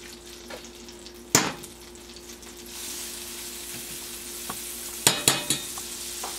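Salmon pieces sizzle in plenty of butter in an overheated pan, giving a steady frying hiss that swells partway through, broken by a few sharp knocks and clatters of utensils against the pan.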